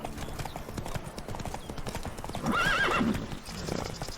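Horse hooves clip-clop steadily in The Witcher 3: Blood and Wine, and midway a loud, close neigh rises over the rhythmic steps.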